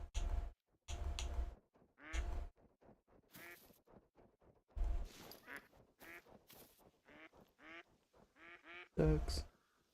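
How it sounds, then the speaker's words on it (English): Ducks quack in theHunter: Call of the Wild, a series of repeated nasal calls in irregular bursts at moderate distance, with someone talking over and between them. "Ducks."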